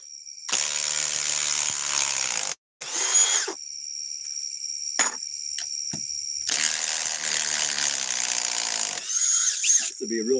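A Ryobi power tool drives sockets in long, loud whining bursts with a brief stop between them, close to the listener.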